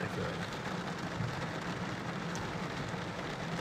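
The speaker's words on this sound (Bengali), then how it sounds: "অনেক বৃষ্টি হচ্ছে" Heavy rain pours down outside a house in a steady, even hiss that holds for the whole stretch, heard from close by at a low level with no voices.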